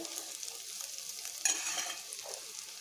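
Beans frying in a pan give off a soft, steady sizzle with light stirring scrapes, including a brighter burst of crackle midway, close by and fairly quiet, with no talking.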